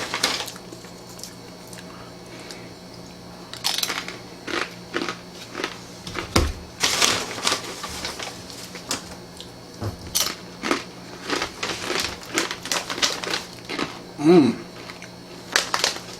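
Bacon habanero pretzel chips from Snack Factory crunched and chewed close up, a string of sharp irregular crisp crackles and bites spread over several seconds with no talking.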